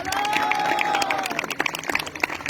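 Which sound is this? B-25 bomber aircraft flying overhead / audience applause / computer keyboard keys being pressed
audience applause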